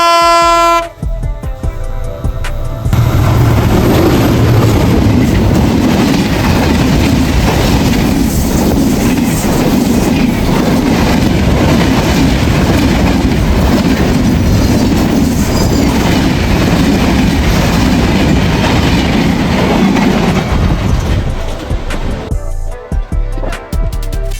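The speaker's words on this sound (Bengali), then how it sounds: "এই যে পিছনে দেখেন এই যে ট্রেন আসতেছে দেখা যায়" A train passes right beside a railway line on an afternoon outing, a loud, sustained roar of rolling wheels and rattling cars lasting about twenty seconds, with tonal horn-like blasts at the start and end.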